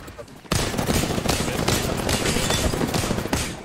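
Wingman pistol shots and surrounding gunfire in an Apex Legends firefight, bursting in loudly after a brief quiet lead-in and continuing as dense, rapid overlapping reports under faint player chatter.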